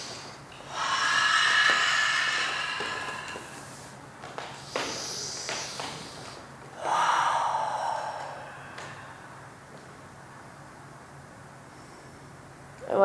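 Slow, deep breaths during a heart-melting yoga pose, with long airy exhales and inhales in three or four separated swells, fairly close and alone with no talking.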